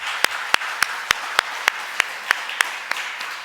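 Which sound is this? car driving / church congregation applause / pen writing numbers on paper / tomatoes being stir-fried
church congregation applause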